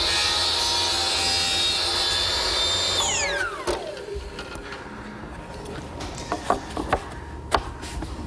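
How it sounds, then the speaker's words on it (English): A power saw trims the long point off a walnut miter joint, a loud steady whine for about three seconds that drops in pitch as the blade spins down, followed by a few faint clicks and taps. "Maybe I should trim off the long point a bit because I'm open here"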